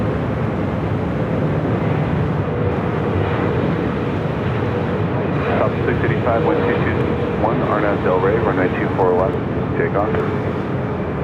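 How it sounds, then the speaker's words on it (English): An airplane rumbles steadily with a constant engine drone during takeoff at LAX, heard from a distance, while radio chatter and voices talk over it. "Clear for takeoff."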